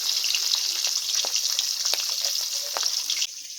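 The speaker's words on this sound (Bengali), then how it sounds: "এরপর মাছগুলোকে ভাজতে দিয়ে দিল" Hilsa fish coated in turmeric and salt frying in a pan, a steady bright sizzle with occasional louder crackles and pops, close and continuous, no talking.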